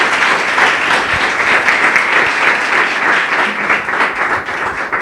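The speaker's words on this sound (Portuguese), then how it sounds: "Louve ao Senhor com suas palmas." Sustained applause from a church congregation clapping their hands, dense and steady for several seconds, loud and close with no talk over it.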